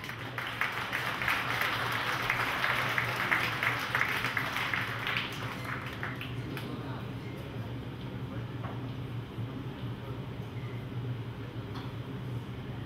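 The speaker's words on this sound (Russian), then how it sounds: "ваши аплодисменты спортсменам на ринге" An audience at a SHOOTO fight event applauds the fighters in the ring, with loud dense clapping for about five seconds before it thins and fades into crowd murmur.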